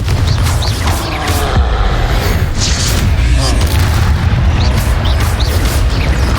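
A Confringo blasting spell from a wizard duel game set in a manor's shadows, heard as loud booming explosive bursts and pops amid continuous battle noise, with voices calling out through the fight.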